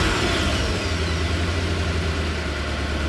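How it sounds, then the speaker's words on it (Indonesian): An ambulance engine running at a steady idle, a continuous low rumble that stays even throughout with no voices. "Pak Syahid menyalakan mesin ambulans dan lampu depan pun menyala terang"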